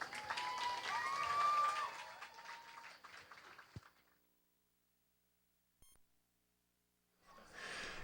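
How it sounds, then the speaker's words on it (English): Spectators at a high school girls soccer game clap for the seniors, a few seconds of outdoor applause with whistling tones that fades into near silence, a brief click, then another short burst of crowd noise. "Let's give a big round of applause to our 2008 seniors."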